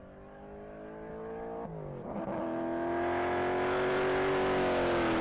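A 1983 Datsun 280ZX race car accelerates hard on a mile-long top-speed run, its engine rising in pitch through a gear change and climbing steadily louder as a sustained, droning roar.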